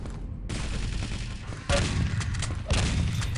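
Railgun fire in a Quake Live team deathmatch, a few sharp crackling shots at roughly one-second intervals over steady game noise, with faint voice beneath.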